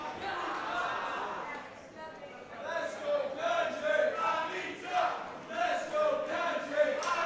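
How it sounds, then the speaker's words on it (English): A pro wrestling crowd cheers and shouts steadily through the whole stretch, with rising swells of chanting voices, while a commentator talks over the noise. "And listen to this crowd."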